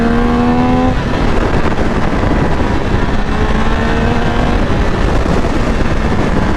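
A loud, high-pitched engine of a 2022 Triumph Speed 1200 RR motorcycle screams steadily, its pitch sliding and rising in repeated sweeps as it revs hard at speed, with constant wind roar.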